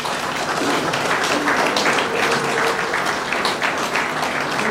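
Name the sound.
audience applause at signing ceremony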